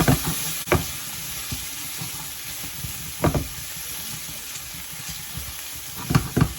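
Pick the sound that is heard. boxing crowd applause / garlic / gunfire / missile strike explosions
garlic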